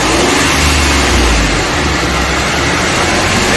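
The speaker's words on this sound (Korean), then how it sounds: "그 다음에 엑셀 페달을 좀 밟아줘 봐요." A car engine, running during an air conditioner gas recharge, revving as the accelerator pedal is pressed, loud and close, with a steady rising engine roar sustained throughout.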